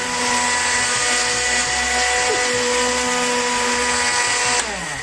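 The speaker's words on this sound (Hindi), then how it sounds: "और अब मैं इसको ब्लेंडर चला देती हूँ" A kitchen blender whirs continuously at high speed while blending a drink, a loud, steady motor drone with a bright whine that holds throughout, then dips slightly near the end.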